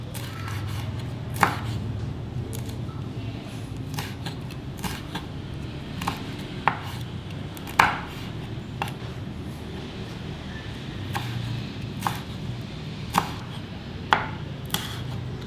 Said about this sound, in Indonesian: Cabai merah keriting kita potong nyerong